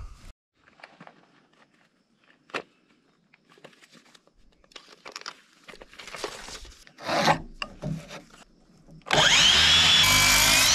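A cordless power saw cuts through thick rough-cut 2 by 12 lumber for building stairs, a loud, steady rasping whine that bursts in near the end after quieter scattered knocks and rustling.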